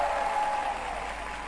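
A crowd at a red-shirt UDD political rally stage in Chiang Mai claps and cheers in a brief, dense wash of sound, steady and fairly loud with a slight dip partway through.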